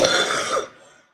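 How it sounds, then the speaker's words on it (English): A single harsh cough from a person complaining that coughing hurts, close and fairly loud, a rough burst that fades out within about a second. "Oh my god, it hurts so much when I cough."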